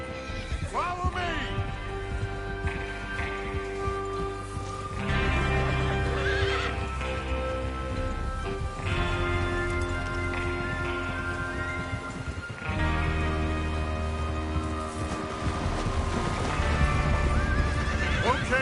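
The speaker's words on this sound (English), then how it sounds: "Get your horses ready." Horses in a Western outlaw gang preparing for a train robbery in Red Dead Redemption 2, whinnying and neighing repeatedly while hooves clip-clop steadily close by, with loud tonal calls rising over the hoofbeats.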